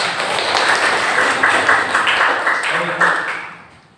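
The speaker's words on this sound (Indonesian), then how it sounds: "Boleh beri tepuk tangan dulu." Classroom audience applause after a student presentation, a dense wash of clapping with voices mixed in, fading out near the end.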